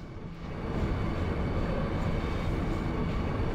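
A train rolls along in Final Fantasy VIII on the way to Timber, giving a steady, loud, continuous rumble with a broad noisy wash that holds even from start to end.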